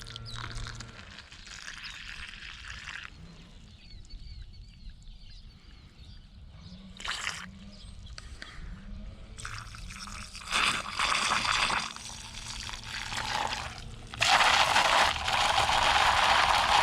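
Baking soda water swished inside a Triumph Bonneville fuel tank being cleaned of varnish and rust, giving irregular sloshing, gurgling and scraping bursts that grow louder toward the end, with no talk.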